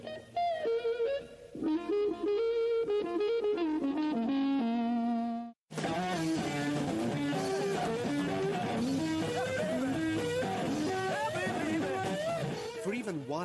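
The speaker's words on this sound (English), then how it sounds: "Another characteristic of your particular playing is a kind of whining noise, usually described as woman tone." Electric guitar in woman tone, tone control rolled off and volume full up, playing a loud, sustained, singing lead line with bends, first as a solo phrase and then over a full band backing.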